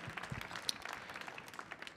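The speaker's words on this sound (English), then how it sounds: "Round of applause for them." Brief, fairly quiet applause from an audience at a DC Jazz Festival concert on the Millennium Stage, a soft scattered patter of hands clapping for about two seconds.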